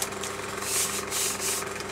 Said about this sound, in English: I've got a sanding block. Look at me go.